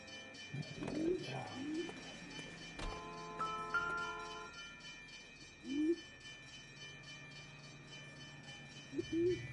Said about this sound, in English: I hear pigeons nearby.